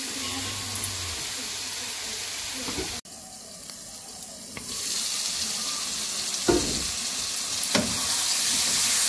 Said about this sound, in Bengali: এদিকে সবজি কষানো হয়ে গেছে